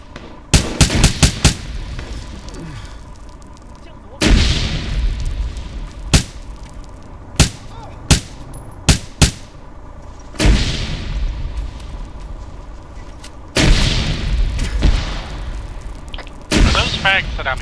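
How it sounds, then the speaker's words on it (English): Frag grenades exploding in a military video game set in Colombia: loud, heavy blasts with rumbling tails arrive in irregular bursts, mixed with sharp gunshot cracks, close and dominant throughout. "Are those frags that I'm hearing going off?"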